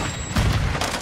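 A Semtex grenade goes off in a Call of Duty–style shooter on the Shipment map, a single loud, close explosion with a heavy rumbling boom that swells quickly and stays dense for the whole moment.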